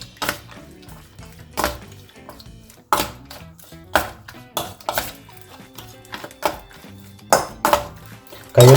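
A spoon scrapes and clinks against a bowl while chicken kabab masala is mixed, in irregular sharp knocks and taps spread across the clip, with no talking.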